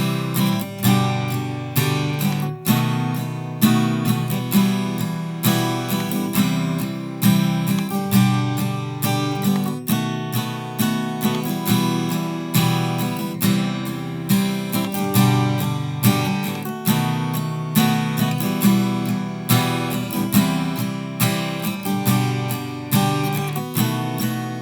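Acoustic guitar strumming a four-chord progression, played steadily and rhythmically, solo and close, with regular strummed accents throughout.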